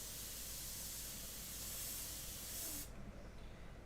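An airbrush sprays paint onto a portrait in a steady, close hiss that cuts off sharply near the end, leaving quieter air behind.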